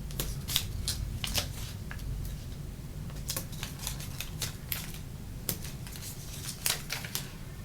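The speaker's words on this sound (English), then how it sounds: "Now I'm going to pop this up on some mounting tape." Dollar Tree mounting tape is applied to a handmade butterfly card: quick crisp crackles, taps and peeling rustles in irregular bursts, close and fairly quiet over faint room hiss.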